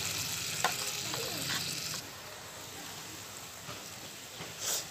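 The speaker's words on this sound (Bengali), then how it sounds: "গ্রেভিটা ফুটে গেছে" Egg omelette curry gravy boiling in a pan, a steady close sizzling hiss with small bubbling pops, dropping slightly softer partway through and continuing alone without talk.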